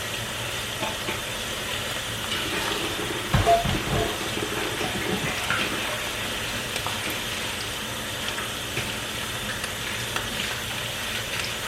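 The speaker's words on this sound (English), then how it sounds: "So now, I'm stir this up, give it a little stir. We're still trying to fry that rice." Rice fries in a pan with a steady sizzle and hiss while a utensil scrapes and stirs it, with a louder burst of stirring early on, close and continuous throughout.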